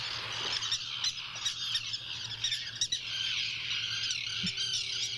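A common tern on the Maine coast gives repeated harsh, scratchy calls in a close, steady series, with no voices present.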